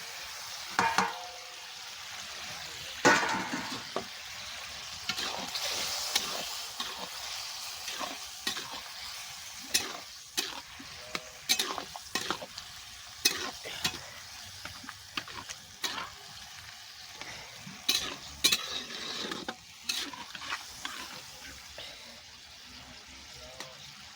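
Fried cauliflower florets stirred into cooked-down spice paste for a Bengali fish curry, sizzling steadily close by while a utensil scrapes and knocks the pan in irregular strokes throughout, with no talk.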